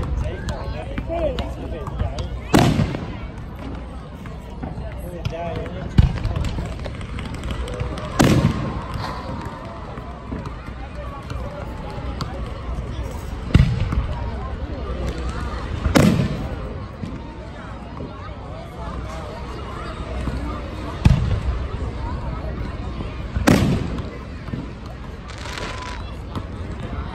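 Canada Day fireworks burst as sharp, booming cracks every few seconds, with crackling tails between them. A crowd murmurs and chatters underneath throughout.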